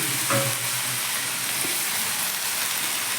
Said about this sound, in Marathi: लसण टाकला जिरं टाकलं आणि मिरची खुळून टाकली हिरवी मिरची